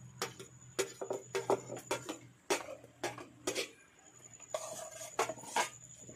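Tomatoes are added to onions in a pan and sautéed for Goan prawns, with a spatula tapping and scraping the metal pan in an irregular series of sharp clicks over a low hum.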